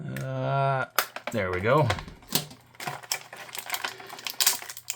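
Scissors cut plastic packaging to free a Masters of the Universe Origins action figure, with several sharp snips and clicks sounding close by under a person's talking.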